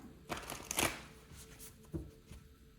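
Tarot cards shuffled by hand in a few quick riffling bursts, soft papery flutters and taps close up in an otherwise quiet room.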